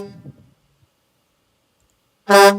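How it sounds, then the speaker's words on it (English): A single short car horn honk at the end, loud and close after near silence, preceded briefly by faint muffled voice. "Don't forget to honk the horn."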